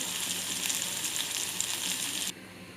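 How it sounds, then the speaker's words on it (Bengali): Water poured into lentils sizzling in a hot pan makes a loud, steady hiss and crackle for a couple of seconds, then drops abruptly to a quieter simmer. "ডালটাকে এখন ভালো করে নাড়া দিয়ে আমি পানি দিয়ে দেবো"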